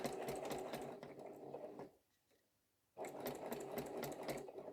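A sewing machine runs steadily while stitching straight diagonal quilting lines, stopping briefly for about a second of near-silence before starting up again at the same close, loud, even pace.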